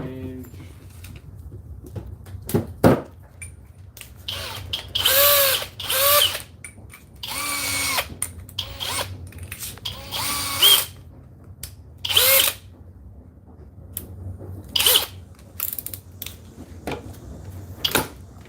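A Flex cordless drill fitted with a smaller battery runs in drill mode on turbo, speed 2, in a series of loud whirring bursts of one to two seconds each, broken by short pauses and clicks.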